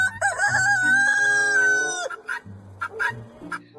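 A rooster crows once in a long, loud, close cock-a-doodle-doo, followed by a few short clucks, with no talk over it.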